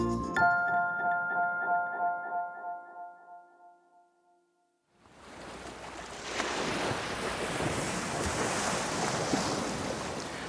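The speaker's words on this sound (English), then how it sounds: "Wow, look at those ocean waves." Ocean waves wash onto a beach in a broad, steady roar of surf, loud and continuous, preceded by a few seconds of bright chiming music and a short silence.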